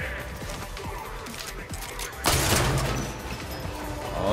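Warframe gunfire sounds as a string of quick faint clicks and pops, then a louder harsh burst of shooting and crashing that hangs through the rest of the moment.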